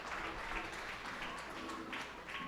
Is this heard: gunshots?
no